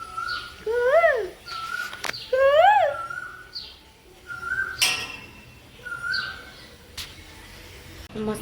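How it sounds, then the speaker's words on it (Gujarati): An Asian koel calls from a neem tree in a home garden. It gives several clear, rising whistled calls, repeated in a loose rhythm, with thinner chirps between them and quiet background. "મસ્ત મજાની કોયલ બોલી રહી છે."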